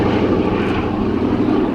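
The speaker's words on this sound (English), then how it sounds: "This was the aircraft of Captain Donald" Vintage warbird aircraft flying past at the Duxford Summer Air Show, likely a B-17G bomber or P-51 Mustang, its propeller engine a loud, steady, continuous drone throughout.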